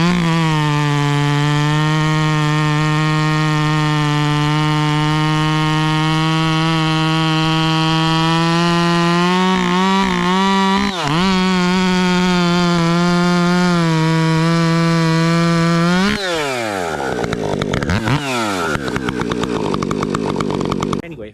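A loud ported chainsaw with a modified exhaust revs steadily for a long stretch, dips briefly, then drops and revs again in rising and falling bursts, harsh and raspy.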